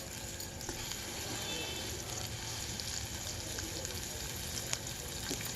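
Ingredients frying golden in a pan for a cabbage and wheat rava pulao give a steady, low, continuous sizzle with a few faint clicks throughout.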